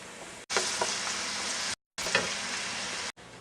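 Chopped onion and celery sizzle loudly in olive oil, a steady broadband hiss with brief gaps where the pan noise drops out, close and alone without talk.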